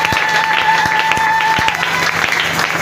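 A church congregation at a Sunday worship service applauds and cheers in praise of God, steady dense clapping from a large crowd filling the room for the whole stretch, with a sustained tone ringing beneath.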